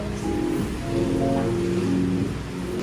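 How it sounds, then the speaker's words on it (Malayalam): Steady rain falls in Kodaikanal, a constant broadband hiss with no distinct drops standing out, holding at an even level for the whole stretch. "ഹെവി മഴ ഉണ്ട് ഇവിടെ."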